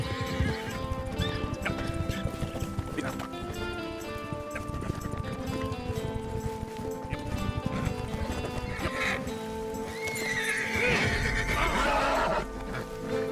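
A Fox Trotter horse in Red Dead Redemption 2 whinnies and snorts while its hooves clip-clop steadily, close and loud, set against continuous game music.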